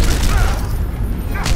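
A blimp being shot down and blown apart in the fighting game Injustice: Gods Among Us, a loud, continuous low boom and crashing rumble with a voice partly over it.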